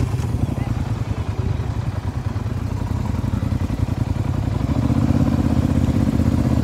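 A Polaris Sportsman 850 ATV engine churns through a mud hole, a steady close mechanical drone with rapid clattering pulses that swells slightly louder toward the end.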